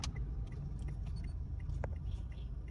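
A car being driven, with a steady low engine and road rumble running throughout at moderate level, with a few faint clicks and rustles inside the vehicle.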